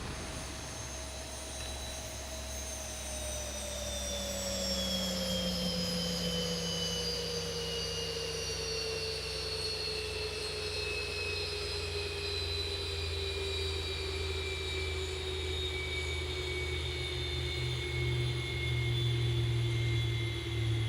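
Boeing 737 jet engines spooling in the X-Plane 11 flight simulator, a loud steady roar with high whining tones sliding slowly downward across the whole stretch, no voices over it.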